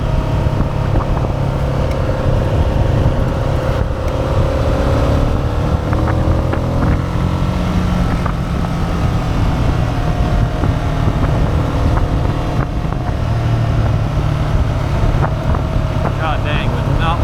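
A 2002 Ducati Monster 750ie motorcycle ridden over a rough road, its steady engine drone rising and falling with the throttle beneath heavy wind buffeting on the microphone, continuous and close throughout.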